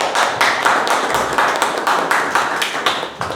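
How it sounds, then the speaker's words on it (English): Applause from a small audience at a Toastmasters club meeting, a loose run of fairly close hand claps with a rhythm that never quite settles, holding steady for a few seconds. "A great applause for Chirag."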